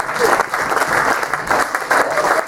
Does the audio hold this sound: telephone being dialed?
no